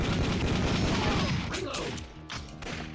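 Dense, rapid gunfire from the Time Crisis arcade shooter fills the opening, then thins into separate booming shots and mechanical clanks.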